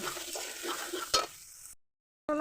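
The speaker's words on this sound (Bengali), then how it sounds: "বাটা মশলাটা দেবো মেরে চেড়ে ভেজে নেবো" Ground spice paste fries in a pan with a soft continuous sizzle and a few stirring scrapes, one sharp clank, then a brief silence before the sizzle resumes.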